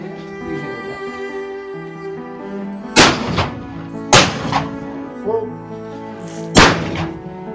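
Shotgun blasts at clay targets on a shooting ground at the Isle of Eriska, Scotland: three sharp, loud reports spaced a second or two apart, each with a short echoing tail, over a steady low background hum.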